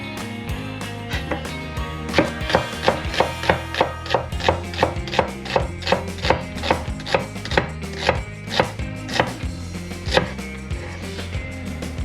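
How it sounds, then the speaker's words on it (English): Onions being chopped with a knife on a cutting board, a steady run of crisp, close, rhythmic chops repeating evenly for several seconds. "Next, I'm going to chop the onions."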